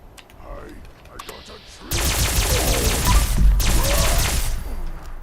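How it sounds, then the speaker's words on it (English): Unknown Alien Blaster in Fallout 76, fired in rapid bursts with the trigger spammed: a dense run of sharp repeated shots for a few seconds, then a brief pause and another burst, loud and close. "fire it so fast. Like, spam that trigger."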